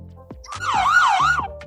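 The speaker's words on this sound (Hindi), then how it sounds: "सायरन बजने के बाद रोक देना है" A wailing emergency siren sound effect, added during video editing, rises and falls in a few smooth sweeps, loud and close with nothing else around it.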